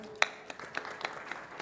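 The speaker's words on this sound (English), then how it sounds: "We can welcome them with a round of applause" Brief burst of audience applause at a hospital awards panel event, sparse claps with a sharp opening clap then scattered, moderately faint hand claps over roughly a second and a half.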